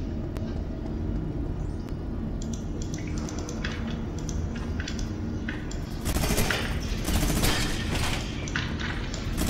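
Gunfire in Fortnite on an Among Us themed map, a run of quick shots and thuds that grows into a denser, louder burst of firing in the second half, with a steady game hum underneath.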